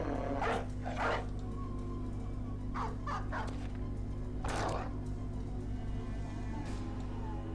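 A dog from the video game Battle Brothers barks several times in short, sharp bursts over a steady low game hum.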